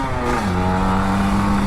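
A freshly serviced Kawasaki Ninja RR 150, an older two-stroke motorcycle, revs loudly and close by, its engine note dipping and then holding a steady, buzzing pitch.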